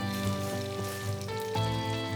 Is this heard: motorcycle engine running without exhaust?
no